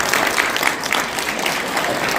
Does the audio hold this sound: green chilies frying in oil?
no